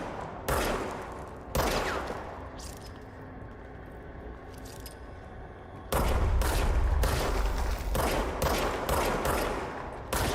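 Video game gunfire comes in dense, loud bursts of rapid shots separated by short pauses, the last burst running several seconds without talk.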